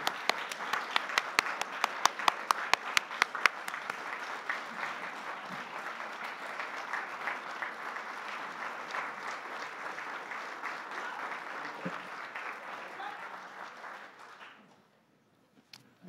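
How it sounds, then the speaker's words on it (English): An audience at a community awards event applauds the mayor: a few sharp, loud claps at the start swell into sustained crowd applause that holds steady, then fades out to near silence at the end. "Can we give a round of applause to our very incredible mayor?"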